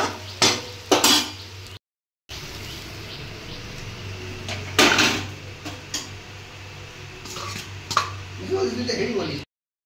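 A lid clatters onto a cooking pot of mushroom curry, and the pot is then lifted off the heat, with metallic clinks and knocks. A person talks between them, and a brief silence interrupts the sounds.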